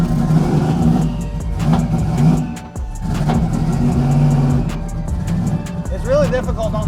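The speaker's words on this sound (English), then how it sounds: "Start this thing and see if we can." A car with a sequential gearbox and a touchy clutch, set for burnouts, its engine running loud and close and revving up and down in repeated surges, with people talking over it.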